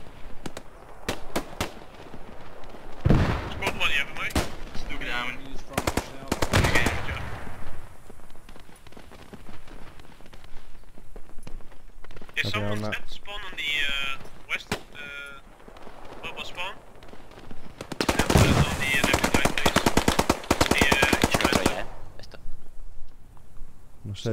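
Gunfire in the World War II shooter Post Scriptum, with clusters of sharp rifle and machine-gun bursts, some close and loud, others distant, and quiet talk between the volleys.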